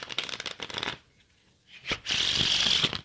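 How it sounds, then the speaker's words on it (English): A deck of Cartamundi playing cards being shuffled up close: a dense riffle of rapid flicking for about a second, a brief pause, then a longer, louder riffle and bridge that ends with soft clicks. "I'm honestly liking the sound of the Cartamundi cards better than the sound of the bicycle cards."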